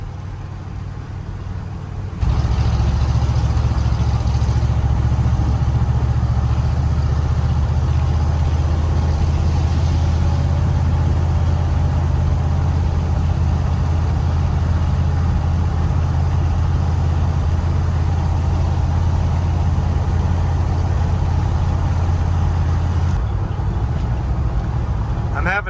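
A 1977 Ford 4x4 barn-find truck with an unhappy carburetor idles loudly and close, a steady low rumble that runs almost unbroken after a quiet start and fades back at the very end.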